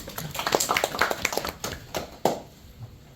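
Applause rises from an audience at a labor union forum on industrial accident and employment insurance as a panelist is introduced, a fairly close patter of clapping that thins out and fades after about two seconds.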